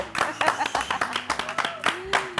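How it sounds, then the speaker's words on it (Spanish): A few people clap in distinct, uneven bursts to welcome a guest to a studio interview, close and sparse, with voices and talk mixed in between the claps. "a quien recibimos con un fuerte aplauso"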